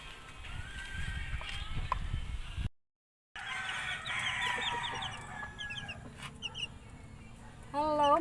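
Chickens cluck and murmur nearby with a rooster crowing, over a busy outdoor background, broken by a brief moment of silence.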